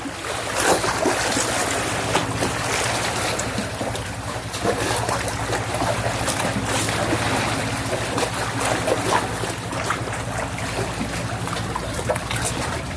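Waves from Taal Lake lap steadily against the exposed foundation of a house in Sitio Siaten, making a continuous close wash of splashing water with a low rumble beneath it.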